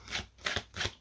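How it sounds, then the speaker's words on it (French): Cards being shuffled for a tarot-style guidance reading: three quick riffling bursts in an even rhythm, close and crisp, with no talking. "on va commencer gentiment un petit tirage de cartes"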